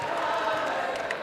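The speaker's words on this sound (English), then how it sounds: "A little bit more life in the crowd as we see some of the boys getting into it" Crowd noise in a gym at a girls high school basketball game, Walla Walla Blue Devils against Richland Bombers, a steady broad murmur of cheering voices with no clear peaks.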